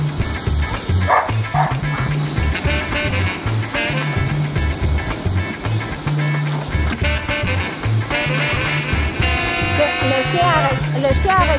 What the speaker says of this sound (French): À chaque fois que le jeep s'en va, elle jappe comme une perdue.